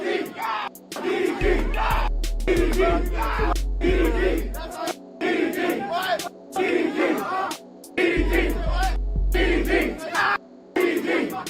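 A concert crowd at an Atlanta rap show chants in loud, rhythmic bursts, with heavy bass thumps from the music pounding between the shouted phrases.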